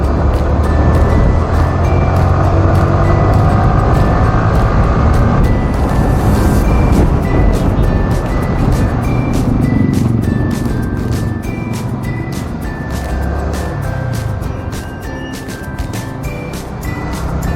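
A vehicle engine speeds up on a road, a continuous loud rumble and roar with road and wind noise that holds steady for a long stretch with no talk.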